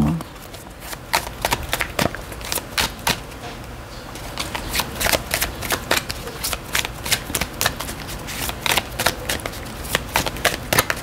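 Tarot cards are shuffled by hand in a series of quick riffling bursts and soft slaps, close and crisp, with a voice talking faintly underneath at times.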